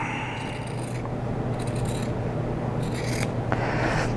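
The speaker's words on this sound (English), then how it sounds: "just cut them apart with the scissors" Scissors snip and slide through material in several separate cutting strokes, close up, over a steady low hum.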